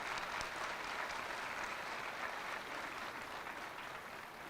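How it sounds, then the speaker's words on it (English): Applause for school staff, families and friends at a charter school graduation ceremony, a steady wash of many hands clapping, fairly quiet and continuous, tapering slightly toward the end with no talking. "Can we all please give a round of applause to all the staff at ECCS,"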